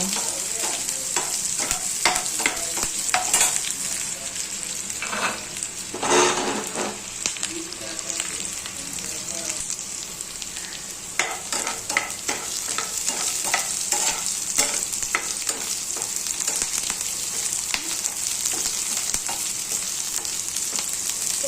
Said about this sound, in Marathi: कांदा ब्राऊन कलर होईपर्यंत फ्राय करायचा आहे.